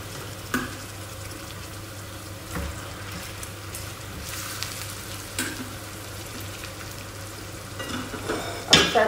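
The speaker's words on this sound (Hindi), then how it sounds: "हाँ जी, इसके बाद मैं इसके अंदर अपना ये चिकन डाल दूँगी।" Chicken pieces for Arabian chicken majboos fry in a pot with a low, steady sizzle and bubbling, broken by a few clinks and stirring knocks and a louder burst of activity at the end, with no voices.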